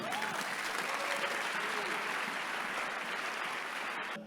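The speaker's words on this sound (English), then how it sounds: "Give the Lord a clap offering." A large church congregation applauding steadily, a dense wash of clapping that holds for several seconds before fading at the end.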